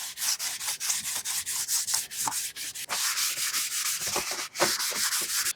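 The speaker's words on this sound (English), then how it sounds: "use some screwed up brown paper. And this will be abrasive enough to take the nibs off and make the surface nice and smooth" Crumpled brown paper rubbed back and forth along the grain of a scrap-wood bath tray surface, a steady run of close, dry scratchy strokes with brief pauses between passes, no voices.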